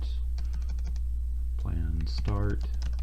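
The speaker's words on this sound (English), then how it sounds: "I am not typing well this evening." Computer keyboard keys clatter in quick, uneven bursts of typing, fairly close, with a person talking over part of it.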